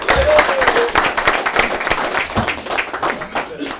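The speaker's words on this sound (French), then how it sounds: "on l'applaudit bien fort" An audience at a live show applauds a performer, lively clapping with crowd noise and a voice talking over it.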